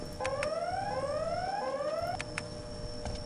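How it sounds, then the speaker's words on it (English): An alarm rings in the Spider-Man 2 (2004) video game: repeated rising electronic sweeps, each climbing in pitch and then resetting, loud over a steady background hum with a few clicks. "Oh, this is the alarm?"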